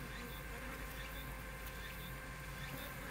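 Dense, continuous buzzing of many Japanese honeybees balled around a yellow hornet, a close, even hum with no break.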